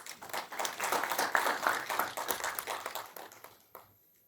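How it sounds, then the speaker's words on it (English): Applause at a defense event gathering, a burst of clapping from the audience that swells, holds, then tapers off to near silence at the end. "Please welcome with an applause"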